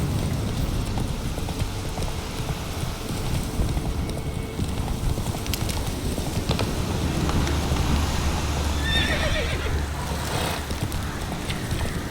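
Roach, the horse in The Witcher 3, trots along with steady, rhythmic hoof clip-clops over a loud, constant wind-like rush, and a brief whinny-like cry near the end.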